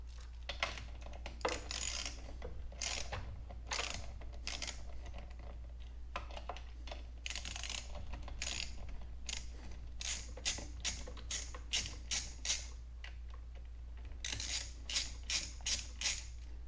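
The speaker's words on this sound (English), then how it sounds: "So we're just going to go ahead and loosen these." Rapid clicking bursts from a ratchet with a flexible extension loosening 8mm nuts on a Poulan Pro PP4218A chainsaw, the bursts quick and close, stopping and starting in short runs.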